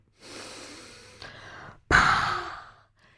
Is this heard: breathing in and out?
yes